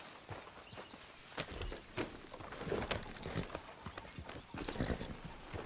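Irregular clip-clop of horse hooves on a hard surface in the video game Red Dead Redemption 2, fairly close, with faint rustling and jingling mixed in.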